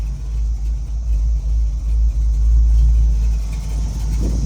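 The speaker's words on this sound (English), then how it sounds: "Just listen to that 383. You got a nice cam in there. Hear it chopping." A 1968 Chevrolet Camaro with a blueprinted 383 V8, aggressive cam and HEI ignition idles close by, a deep, loping rumble with an uneven, choppy pulse that rises and falls slightly.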